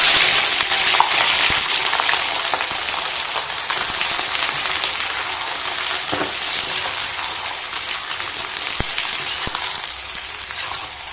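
Sliced onions frying with sugar in hot oil for chicken biryani, making a loud, dense, continuous sizzle close up with occasional sharp pops and no talk.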